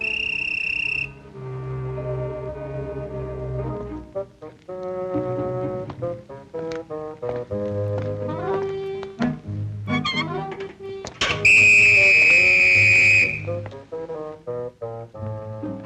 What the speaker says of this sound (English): I thought I heard the mailman whistle